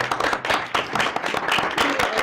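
Applause for a high school state champion cheer team at a school district board meeting: a room of people clapping steadily and unevenly, with voices mixed in.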